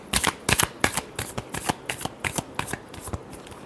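Tarot cards are shuffled by hand at close range, a rapid series of crisp riffling flutters and slaps in quick bursts for a few seconds.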